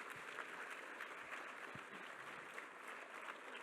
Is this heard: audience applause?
yes